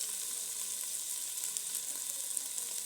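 Ingredients for Peshawari daal mash fry lightly in a pan, giving a steady, soft sizzle with faint crackles throughout and no talking.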